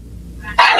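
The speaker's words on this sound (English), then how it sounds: "I hear the dogs barking." A quiet stretch ends in one sudden, loud dog bark close by.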